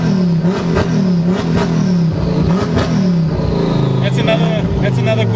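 Ford Focus ST MK2 turbocharged engine revving hard, pitch sweeping up and down in repeated pulls with clattering bursts, loud and close, with no talk over it.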